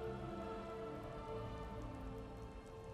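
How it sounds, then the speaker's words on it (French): Steady rain falls in the video game Skyrim as a soft, continuous patter under a low droning ambient tone, with no voices. "Oh, mince, il pleut, on va être tout mouillé"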